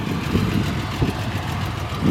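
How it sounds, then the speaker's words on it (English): A restored 1970 Triumph TR6 convertible idles steadily nearby, a continuous low engine rumble with faint periodic pulses and no talk over it. "as you can hear it is running."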